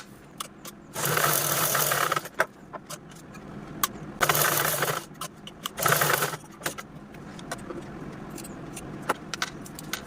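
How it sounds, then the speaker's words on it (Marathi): A sewing machine stitches around a zipper on a round tiffin bag in three separate bursts of whirring, each a second or so long, with quiet handling clicks in between. "आता कडे कडेने पण मी यावरती स्टिच करून घेत आहे"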